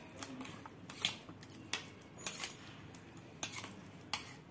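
A spoon clinks and scrapes in a bowl while mixing an egg and spice batter with salt for Marathi egg appe, in quick irregular taps, close and fairly quiet, with no talking.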